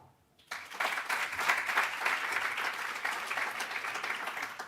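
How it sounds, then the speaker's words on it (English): Audience applause at the Hertie Summit alumni reunion in Berlin, starting abruptly after a short quiet moment and continuing as a steady, dense round of clapping from a large crowd. "can you, by a round of applause, let me know if you're a Hertie alum?"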